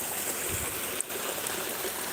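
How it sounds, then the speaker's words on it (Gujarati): Irrigation water runs through a farm field, a continuous broadband rush and trickle holding steady close by, with one brief knock midway and no talking. "પાણી અત્યારે ચાલુ છે"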